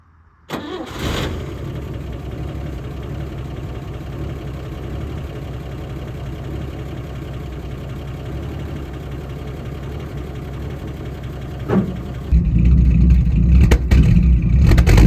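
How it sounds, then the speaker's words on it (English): A car that has sat unused for a few days cranks briefly, catches and settles into a steady, close idle, with a louder rev near the end. "where we start her up and hope it starts"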